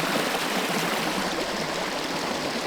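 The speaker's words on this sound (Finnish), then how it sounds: "Mahtavat purot olisi." A mountain stream along a scenic fell trail rushes and gurgles in a steady, loud wash of flowing water, close by and alone with no voices.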